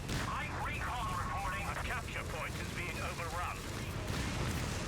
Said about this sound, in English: Recon artillery now coming in this sector. Artillery coming on in.